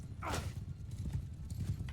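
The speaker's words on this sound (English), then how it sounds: "Their horse archers are charging right now." Horse hooves clip-clopping and a whinny during a cavalry charge of horse archers in the Mount and Blade 2 Bannerlord video game, with a steady dense rumble of hoofbeats throughout.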